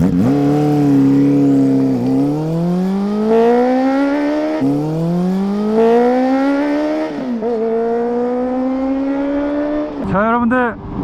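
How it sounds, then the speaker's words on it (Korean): A 2019 Honda CB400SB motorcycle with Hyper VTEC revs up through the gears while riding, its exhaust note rising and dropping in repeated loud sweeps as it shifts, close and continuous throughout. "벌써 이렇게 맛있는 배기음이 함께하고 있죠."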